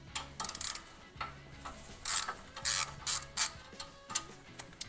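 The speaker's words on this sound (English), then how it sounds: "I'm going to start off by undoing these two lines here" A wrench ratchets in short, close bursts of metallic clicking while lines are undone on a Ford 4WD during an IWE actuator replacement, with quiet pauses between the turns.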